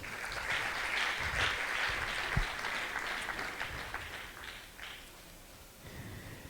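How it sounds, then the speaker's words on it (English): Applause from an audience at a tech conference, a moderate patter of clapping with some rustling and a sharp knock partway through, fading somewhat toward the end. "A round of applause."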